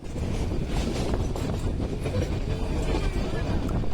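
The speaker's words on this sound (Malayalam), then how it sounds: "ട്രെയിൻ ഊട്ടിക്ക് അടുത്ത് എത്തിയിട്ടുണ്ട്." The Mettupalayam–Ooty heritage mountain train running near Ooty, a steady dense rumble and rattle of wheels and carriages heard from on board, close and continuous.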